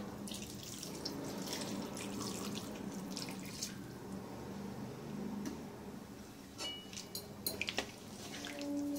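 Milk and water being poured into a pot of shukto, a soft, fairly faint trickling stream with a few small clinks of the pot near the end.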